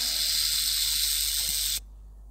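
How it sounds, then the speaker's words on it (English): A snake gives a loud, continuous breathy hiss that holds steady for nearly two seconds and then stops abruptly, leaving near silence. "Snake."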